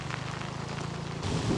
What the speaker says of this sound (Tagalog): Ang lakas ng ulan ngayon, no?